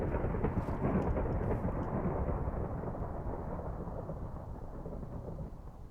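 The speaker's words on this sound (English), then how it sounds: "Stormy weather." Thunderstorm weather in Minecraft: dense, steady rain with low rumbling thunder, loudest at the start and easing slightly as it goes on, with no voices.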